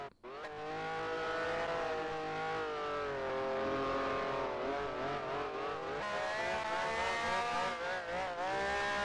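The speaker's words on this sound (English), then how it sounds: "Can hear me revving the engine there." Race car engine in a sim racing game revs hard and sustained, a loud close harmonic whine that rises and wavers as the car speeds back to the pits, with faint tyre noise beneath.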